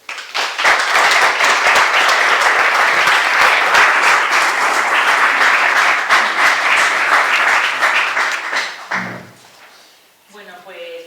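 Sustained audience applause for a Más Madrid culture spokesperson arriving at a university talk, loud dense clapping for about nine seconds before fading, then a voice begins speaking.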